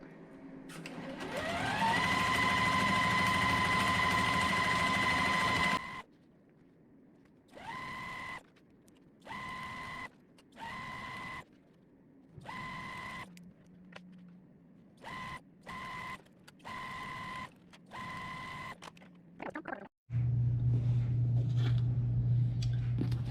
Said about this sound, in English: we're just going to sew 1/4 inch on each side of that line